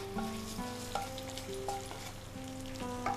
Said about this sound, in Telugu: ఇలా వేయించుకున్న తాలింపుని ఇందులో కలిపేసుకోవాలి.